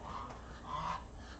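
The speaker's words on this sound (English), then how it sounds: "Going to be a duck fight." Ducks honking and squabbling in two brief, nasal bursts over a steady background noise, close and moderately loud.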